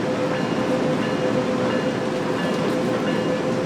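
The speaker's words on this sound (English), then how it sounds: "you've got to keep control of this loco as you go up and down" A steady, loud rumble comes from a BNSF ES44C4 diesel locomotive working the Cajon Pass grade in Train Sim World 3, alone and unbroken for a few seconds.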